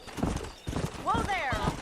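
Hooves clip-clop at a gallop in the Western video game Red Dead Redemption, with a horse whinnying midway; voices talk over the riding throughout.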